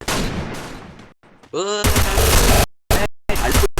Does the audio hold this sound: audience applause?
no